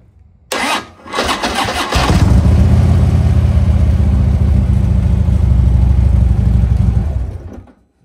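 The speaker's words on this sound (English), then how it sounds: "let's throw them on the bike and see if each one of these batteries cranks the bike up" A motorcycle running on a below-freezing lithium battery cranks briefly, catches and starts, then idles loudly and steadily up close for several seconds before cutting off.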